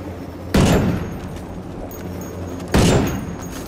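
Two booming blasts about two seconds apart, each decaying into a low rumble, over a constant hum amid a missile attack and gunfire in Ghost Recon Wildlands.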